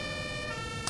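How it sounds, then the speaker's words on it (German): Compressed-air Martinshorn siren on a fire engine in the OMSI 2 video game, a brief steady multi-tone blare heard close and alone, ending with a short click. "Und das ist eigentlich das originale Martinshorn."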